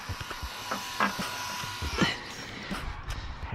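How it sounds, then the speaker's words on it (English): A Goctopus toy drone spins fast with a steady high electric buzz, held close to the recorder, with brief handling knocks partway through. "This thing spins fast"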